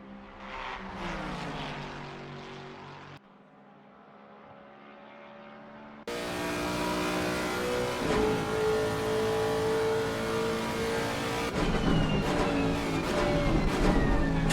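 Race car engines roar past on the Nordschleife during a 12-hour endurance race, a loud sustained drone that dips briefly, then surges back with rising revs and overlapping engines.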